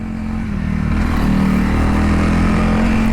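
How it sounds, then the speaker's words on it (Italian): A Honda CRF300L dual-sport motorcycle pulls uphill in third gear, its engine droning steadily and building slightly as it accelerates, loud and continuous with wind rush and no voices. "in terza in salita la moto riprende davvero bene"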